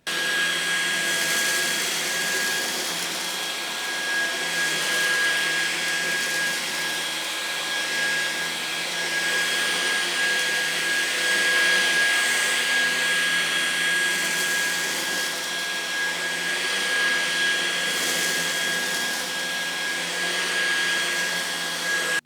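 LEVOIT cordless vacuum cleaner running on turbo mode, a close, loud, continuous high-pitched whine and airy rush that holds steady throughout with slight fluctuations as it moves over the floor.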